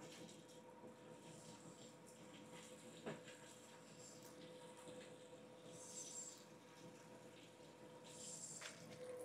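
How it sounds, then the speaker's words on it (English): Water drains from a water heater tank in a quiet steady gushing flow with a faint hiss, continuous and fairly soft, with a couple of brief clanks along the way. "And you're just gonna drain off a little water."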